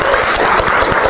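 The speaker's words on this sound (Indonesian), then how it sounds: "Kita kasih tepuk tangan untuk diri kita sendiri" A vocational high school classroom bursts into a brief, loud round of clapping, many students applauding together in a dense, close burst lasting just over a second.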